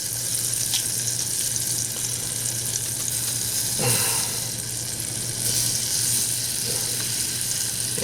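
Minced garlic sizzles in a tablespoon of butter in a pan, a steady close frying hiss with a low hum beneath and a brief clatter partway through, no talking.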